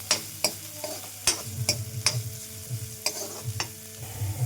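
A pan of oil holds something frying lightly until its raw smell cooks off, a steady soft sizzle broken by sharp scraping clicks of a stirring spoon at a roughly even pace, close by with no talk.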